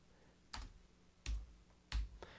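Three separate sharp keystrokes on a computer keyboard, spaced unevenly and sounding close in an otherwise quiet room.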